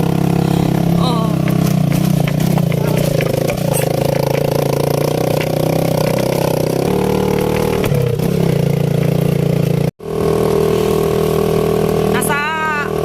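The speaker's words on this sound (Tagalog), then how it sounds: "Halatang taga-bundok tong motor na to eh." A roofed family motorcycle rides along a highway, its engine droning steadily and loudly with wind rush throughout, the pitch shifting slightly as it accelerates, with one sharp momentary dropout near the end.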